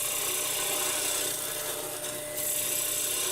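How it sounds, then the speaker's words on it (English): Skew chisel cutting a spinning Brazilian Purpleheart blank on a wood lathe, a continuous close hissing, scraping whir that dips briefly before resuming steadily. "Just using a skew chisel"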